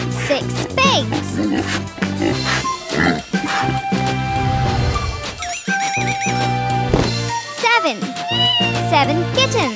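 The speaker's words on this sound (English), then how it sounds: "Seven kittens." Seven kittens meow in quick, high, repeated calls layered over cheerful children's music.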